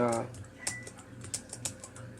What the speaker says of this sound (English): You can hit the arrow key down and it goes to the next one.